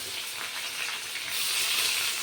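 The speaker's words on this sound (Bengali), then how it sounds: "পেঁয়াজটা ভেজে নেব" Continuous crackling sizzle of onions frying in a hot pan, close up, getting a little louder partway through; no talking.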